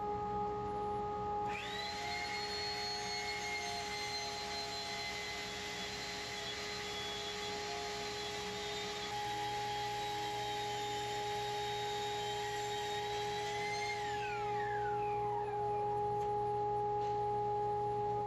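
A table saw rigged as a lathe spins and sands wooden legs for a mid-century modern side table, giving a loud steady machine whine with a sustained tone that starts abruptly, holds for about twelve seconds, then winds down, with no talk.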